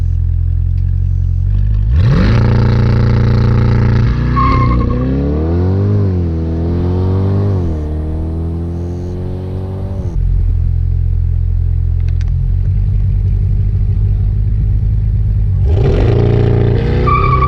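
A 2020 Chevrolet C8 Corvette on street tires does a launch-control start, the engine roaring loud and close as it pulls hard through rising revs, with a gear change and a renewed surge of acceleration.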